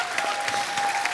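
Studio audience applause at a Hindi comedy show, a steady dense wash of clapping sustained throughout, fairly loud and close with no talk over it.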